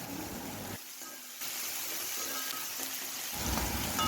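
Shredded cabbage sautés in a pan for chicken fried rice, a steady soft hiss of frying that drops out briefly and returns, fairly faint with no voices.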